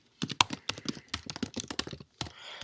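Typing on a computer keyboard, a quick burst of light, close key clicks in an uneven rhythm, with a short pause near the end before a few more taps.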